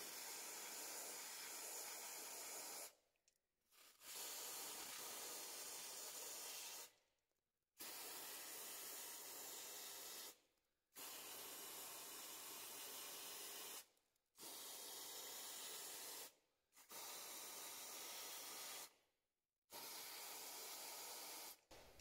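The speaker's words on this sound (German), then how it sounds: "dann gehen wir mit dem Kältespray drauf" Cold spray hisses onto the glow plugs of an Audi A3 1.9 TDI in seven long, steady close bursts, each about two seconds long, separated by short silent pauses.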